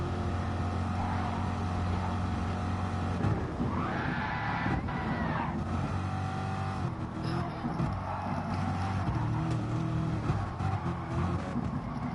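A Ferrari race car engine in Gran Turismo Sport, a steady droning roar with rising and falling revs through gear changes, held at an even level throughout with no speech.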